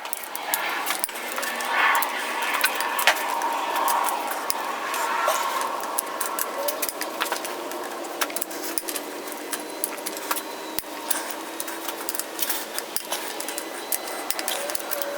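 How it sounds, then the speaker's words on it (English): Metallic clinks and light rattles of hand tools working on a Ford Ranger truck engine in a garage, loosening the connecting rod bolts during a teardown, with steady irregular taps throughout and no talk. "I've decided I'm going to go ahead and take loose the connecting rods before I take the crankshaft out"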